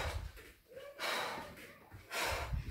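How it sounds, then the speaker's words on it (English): Sharp, breathy exhales during a kneeing ab workout come in three strong bursts with quieter gaps between them, close and fairly soft. "So every time your knee comes up, exhale."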